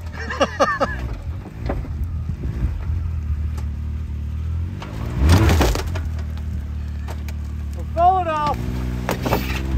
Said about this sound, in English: there goes the windshield